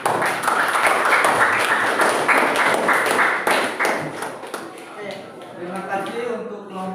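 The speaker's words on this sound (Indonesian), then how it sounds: "Tepuk tangan dulu untuk kelompok." Classroom applause for a student group in an Indonesian teacher-training lesson, a dense run of many hands clapping that fades after a few seconds as a voice starts talking over it.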